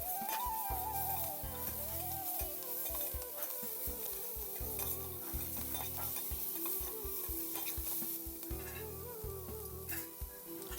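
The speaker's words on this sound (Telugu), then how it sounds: "ఇప్పుడు వీటిని బాగా కలుపుకోవాలి." Vegetables being stirred in a frying pan over steady sizzling, with repeated scraping strokes of a spoon in an even rhythm, close and continuous.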